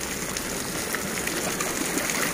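Rainwater rushing along an Acapulco street as a forming river makes a loud, continuous wash of flowing water mixed with falling rain, steady and close with no break.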